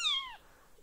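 A small ginger kitten gives one short, high meow that trails off, close and clear in a quiet room.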